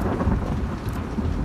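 Thunder rumbles steadily with rain in the video game The Last of Us Part II, a close, continuous low roll with no voices.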